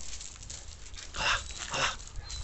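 Pitbulls tugging at prey, with two loud bursts of growling or snarling in the middle over a constant noisy background.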